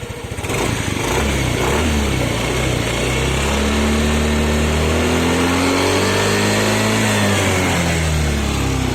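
A Honda Click 125 scooter engine being revved in a repair shop during a charging system test, a loud, close, sustained mid-pitched drone that rises and falls in pitch as the throttle is worked, with no talking over it.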